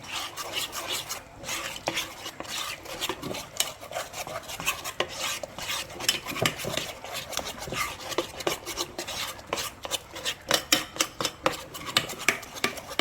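A spoon works steadily through a lemon juice marinade for squid in a bowl, producing rapid, rhythmic scraping and rasping strokes that continue evenly and close up, with no talking.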